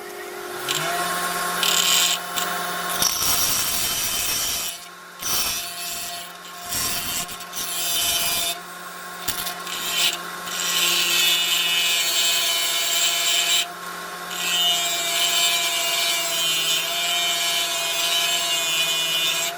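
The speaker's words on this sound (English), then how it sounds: "after a minute on the grinder, I now have an arm with a profile that'll fit" A bench grinder grinding down the arm of a 2-jaw puller, a loud continuous whine and rasp broken by several short pauses as the metal is pulled away and pressed back to the wheel.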